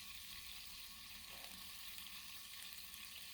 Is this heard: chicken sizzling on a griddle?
yes